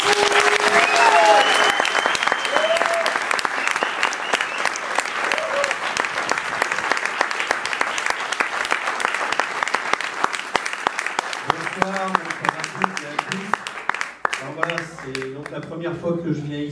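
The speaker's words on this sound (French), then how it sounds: "Veuillez s'il vous plaît faire un roman d'applaudissements à Chris." Loud, sustained theatre audience applause with dense clapping that fades toward the end as a voice begins speaking over it.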